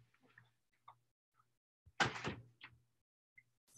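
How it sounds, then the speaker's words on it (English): A door is banged in a quick cluster of dull knocks, moderately loud against near silence, with a few faint ticks around it. "she was banging on the door"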